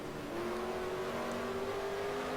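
Race car engine in a racing video game at Richmond holds a steady drone at constant pitch throughout, continuous and fairly loud with no other sounds over it.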